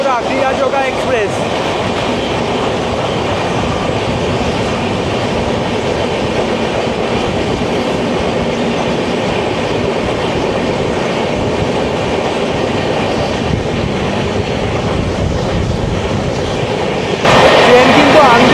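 Hatia to Howrah Kriya Yoga Express running fast on rails in India, giving a dense, steady roar of wheels and carriage noise that holds throughout and swells slightly louder near the end.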